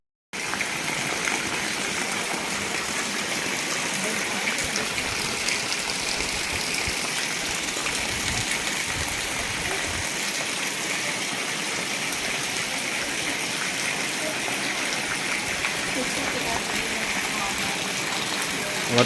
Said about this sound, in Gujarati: વરસાદ ને પવન બે હો પાછું.